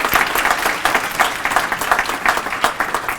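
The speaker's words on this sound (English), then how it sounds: "So I want to give you a round of applause." Guests at a Martin Luther King Jr. Vision Day prayer luncheon give a warm round of applause, steady and fairly close, with claps pulsing in quick uneven bursts throughout.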